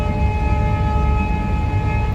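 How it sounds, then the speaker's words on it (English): A WDG4 diesel locomotive hauling a Vistadome train in the Dooars rumbles steadily and loudly up close, a sustained engine drone with a tonal whine layered over it and no voices. "the sound that you can hear is the mighty WDG4. It's the locomotive, the diesel locomotive that is hauling this Vistadome train"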